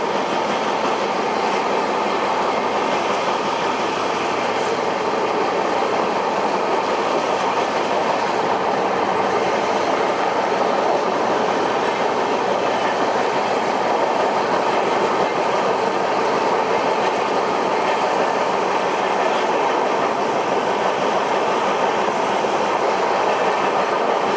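A high-speed train hauled by a WAP7 electric locomotive runs steadily between Vijayawada, Gudur and Renigunta, with loud, continuous broadband rumble and faint clickety-clack of wheels on rail throughout, heard close from on board.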